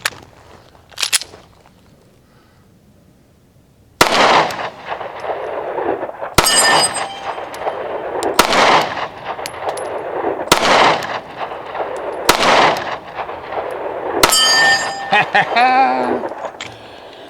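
Handgun shots ring out at an outdoor shooting range, a series of about seven sharp, loud reports spaced roughly two seconds apart, each with a short echoing decay.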